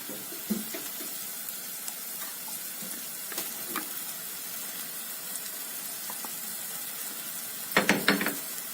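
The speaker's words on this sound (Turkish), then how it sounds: "Şimdi ağdalaşan soğanıma etimi de ilave ediyorum" Meat added to softened, caramelizing onions frying in a pan gives a steady, close sizzle with a few brief clatters of stirring, louder near the end.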